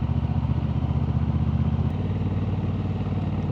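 Motorcycle being ridden toward sunset, a steady close engine drone with a pulsing low rumble that smooths out partway through, loud and continuous with wind noise on top.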